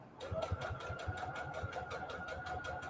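A sewing machine back-stitches fabric hexagons, its needle running in a quick, steady rhythm of short mechanical thumps, close and continuous, without talk.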